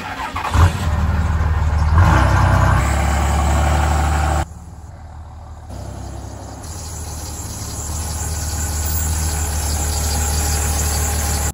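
A pickup truck with a squealing serpentine belt drives from a driveway into a garage, its engine running loud and close with revving, then dropping quieter partway through; no voices.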